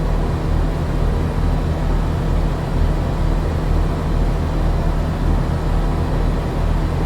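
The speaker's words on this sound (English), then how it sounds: "The sound of the truck is pretty good, I should say, but it is a bit louder than Cascadia" A truck engine in Trucking Season America drones loud and steady with a constant low rumble and hum, unbroken for the whole stretch with no talking.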